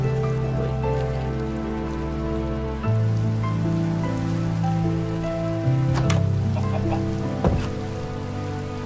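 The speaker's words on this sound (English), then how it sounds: "Sounds like it's still raining." Rain falls steadily in Minecraft, a constant hiss of drops on surfaces beneath sustained tonal background music, with a few brief clucking sounds near the end.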